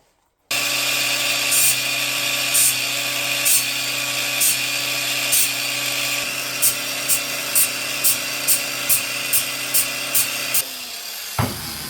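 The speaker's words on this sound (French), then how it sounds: "je vais essayer de faire des petits coups de meuleuse dans tous les sens" An angle grinder spins at a steady high whine while short, repeated touches texture a handmade folding knife handle, each contact adding a brief scratchy burst in a regular rhythm before the tool winds down at the end.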